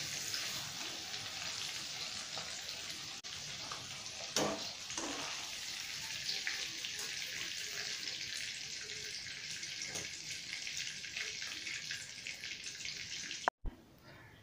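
Paneer frying in oil gives a steady soft sizzle with light crackles throughout, then a sudden clatter near the end.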